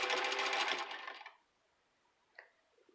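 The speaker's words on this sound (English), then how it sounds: "put your foot on your trusty vintage Singer foot pedal." A vintage 1952 Singer 15-91 sewing machine driven by its foot pedal whirs briefly at speed with a fast rattling hum, then winds down to near silence, followed by a small click.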